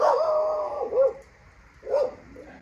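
A dog gives a couple of whining, yelping barks about a second apart, moderately close in a quiet setting.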